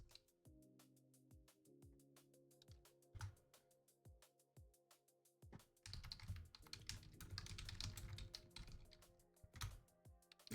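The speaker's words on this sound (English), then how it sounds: "I'm typing in the chat." Rapid keystrokes on a computer keyboard as someone types in a chat, uneven bursts of close clicking over a low steady hum, growing busier and denser toward the end.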